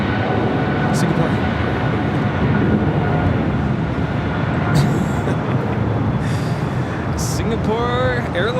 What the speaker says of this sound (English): Singapore Airlines Flight 11 taking off to Tokyo Narita on the 777-300ER.